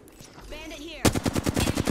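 Video game gunfire in a shooter set in a capital city, a rapid automatic burst of loud, evenly spaced shots that starts abruptly after a moment of quieter game noise.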